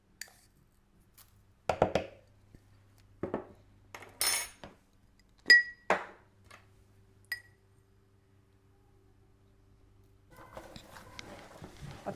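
A spoon clinks and knocks against a bowl in short, scattered bursts while homemade pâté seasoned with salt and pepper is mixed. The sounds are close and separated by quiet pauses, with faint rustling toward the end.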